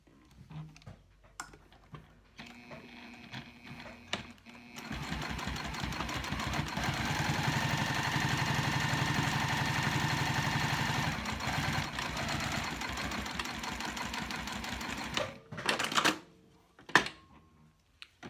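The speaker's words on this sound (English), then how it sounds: "now I'm actually going to sew from the opposite short edge and sew down the other side" A sewing machine stitches Sileather fabric down a long edge, its motor whirring in one sustained run of about ten seconds, framed by quieter handling clicks before and after.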